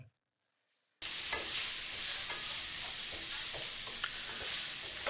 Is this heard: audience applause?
no